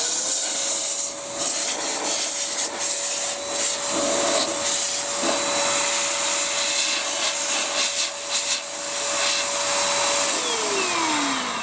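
XPOWER A-2 powered air duster vac running continuously with a steady motor whine and rushing air, rubbing and scraping bursts as dust is blown, then the motor winding down near the end.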